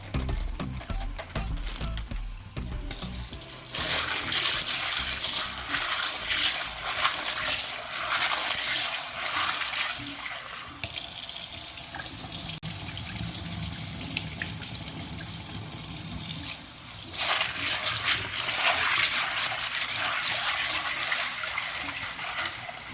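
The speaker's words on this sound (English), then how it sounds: "here I'm going to wash my kidney beans" Dried kidney beans for red peas soup rattle and clatter as they are washed under running tap water in a bowl, with steady splashing and flowing water throughout.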